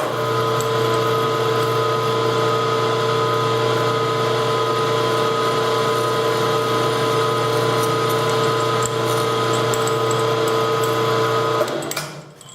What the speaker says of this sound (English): So go ahead and drill hole 2.